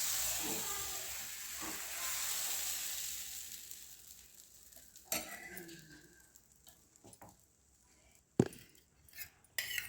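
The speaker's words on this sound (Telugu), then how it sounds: "దోశ ఇలా వేసుకొని దీనిపైన కొద్దిగా ఇట్లా ఆయిల్ వేసుకోండి" Dosa batter sizzles with oil on a hot onion-rubbed pan, a loud steady hiss for several seconds that fades, followed by a few sharp utensil clicks and taps.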